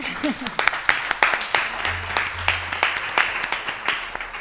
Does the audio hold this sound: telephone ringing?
no